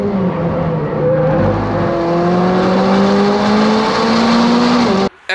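McLaren 600LT lapping the Nürburgring, engine droning loudly from inside the car with rising and falling revs through gear changes and a brief tyre squeal, steady and close throughout.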